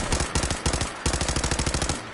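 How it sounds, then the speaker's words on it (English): Automated turrets in Fallout 4 fire rapid, regular bursts of gunfire, a steady stream of loud close shots with a short break near the one-second mark. "I like the fact that these turrets aren't shooting at me"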